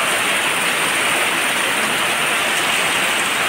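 Heavy, intense rain pouring steadily, a dense continuous hiss with no voices, during a flood-prone downpour near a stream.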